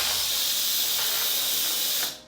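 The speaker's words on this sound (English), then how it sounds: "you can see how there's a lot of steam that comes out" Steady loud steam hissing from the pressure release vent of an Instant Pot Duo electric pressure cooker, continuous for about two seconds before cutting off sharply.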